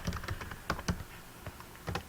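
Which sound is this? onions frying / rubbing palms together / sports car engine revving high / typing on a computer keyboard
typing on a computer keyboard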